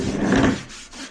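Degreaser pad strips rolled back and forth over a Harley-Davidson Softail exhaust with surface rust, giving a close, steady scrubbing rasp that fades briefly near the end.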